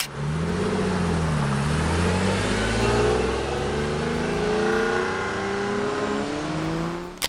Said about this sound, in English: The L402 V12 delivered an unforgettable sound.